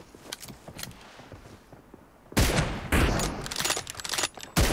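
Rapid bursts of gunfire from a shooting video game, sparse shots at first, then loud, dense volleys of automatic fire in the second half, with no talking.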